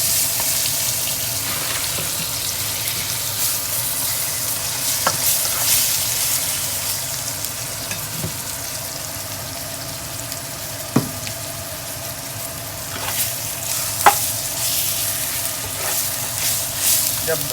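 A bhindi gosht mixture of okra and meat sizzles and fries in a pan while it is stirred. Steady frying hiss runs throughout, with occasional scrapes and knocks of the spoon against the pan.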